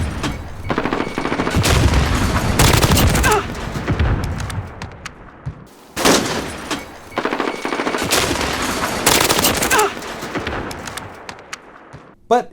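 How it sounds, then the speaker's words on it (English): Video game gunfire from rifles and shotguns crackles in dense rapid bursts with booming reports, in two long volleys separated by a brief pause, loud and continuous. "Gunshots and explosions do not sound as full as boomy as they should"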